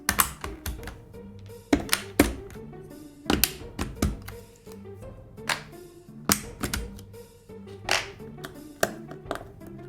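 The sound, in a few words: pulling keycaps off a Redragon K552 mechanical keyboard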